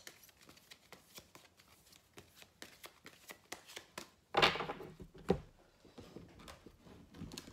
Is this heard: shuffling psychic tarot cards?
yes